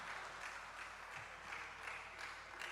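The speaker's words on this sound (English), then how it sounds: "Please, a round of applause again once for her." An audience at a career fair claps for a speaker, producing a continuous, fairly faint patter of hands that holds steady throughout with no voices on top.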